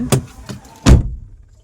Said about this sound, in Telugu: ఆ డోర్ సౌండ్ చూడండి